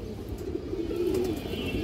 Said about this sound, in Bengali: এই যে দেখেন কবুতরটা